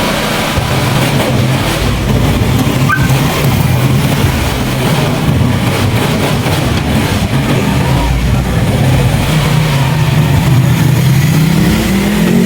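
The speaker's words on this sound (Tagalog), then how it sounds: "sobrang lakas pa rin talaga bumatak yung motor na to" A motorcycle fitted with a sidecar revs and accelerates on a test drive, its engine roaring loud and close throughout with a rising pitch near the end, wind noise mixed in.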